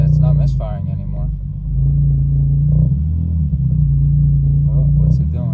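BMW M4 engine idling smoothly and steadily after a misfire fix, a low even rumble close by with a slight rise in level partway through, while someone talks over it.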